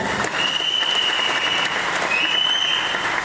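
An audience claps together at a business meeting in Nellore: steady, sustained applause from a crowd across the whole stretch, with a thin whistling tone over it and no clear speech.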